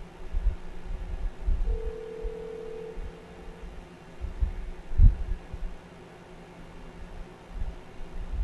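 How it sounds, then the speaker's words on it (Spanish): A single long telephone ringback tone sounds faintly on an outgoing call placed during a livestream, sitting over a low rumbling background hum with no voices. "Vamos a calarle a ver si de casualidad es este teléfono."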